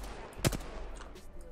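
Short bursts of gunfire in the video game Apex Legends crack out in two quick sharp clusters, one near the start and one at the end, over a low steady game background.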